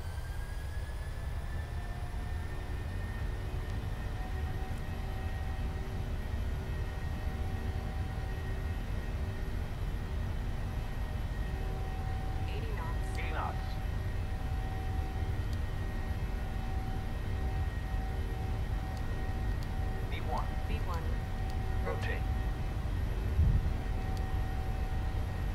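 Jet engines of a PMDG Boeing 737 in a flight simulator game spool at takeoff thrust, a steady loud low roar with a high whine held throughout, with a few faint clicks and cockpit tones near the end.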